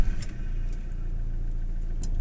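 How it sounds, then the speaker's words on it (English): A car engine catches after service work and settles into a steady mid-pitched idle, with a brief rougher burst at the start, then an even, close hum. "We're going to start the car up."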